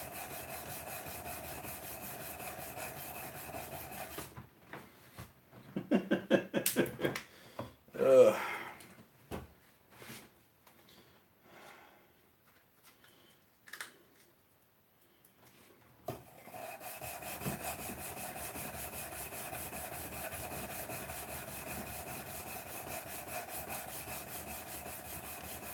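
Wood being hand sanded, with steady rasping strokes at the start and again near the end. A stretch of talk and quieter handling sits in the middle.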